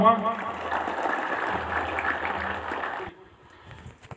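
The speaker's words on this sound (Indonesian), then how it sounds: "Tepuk tangan untuk kita semua." Applause from a crowd at a police commander's address to officers in Simalungun, Indonesia, a dense steady patter of clapping for about three seconds before it stops abruptly, leaving a quieter room.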